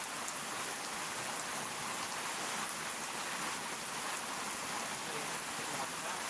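Steady rain pours down, a dense, even hiss of drops on surfaces that holds at the same level from start to finish, with no voices or other sounds over it.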